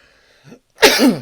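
A single loud, close sneeze bursts out just after a brief faint breath, during an NFL picks and analysis show.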